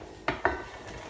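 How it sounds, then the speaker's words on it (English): Two quick close knocks of a wooden spoon against a pot while stirring soy sauce and lentil soup vegetables, each a short scraping clatter, followed by quiet room tone. "You can give it a stir with your wooden spoon."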